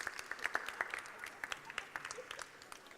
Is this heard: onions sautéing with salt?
no